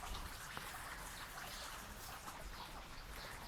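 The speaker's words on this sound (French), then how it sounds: "Il pleut des seaux d'eau" Dense, steady rain pours down, a constant hissing patter of drops hitting surfaces with no pauses.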